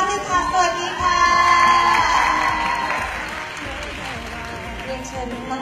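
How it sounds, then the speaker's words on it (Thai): A crowd at a Song Joong-ki press meet and fan event in Thailand applauds and cheers loudly and steadily for several seconds, with scattered whoops and a host's voice talking over it. "และปรบมือดังๆให้ซงจุงกีค่ะ"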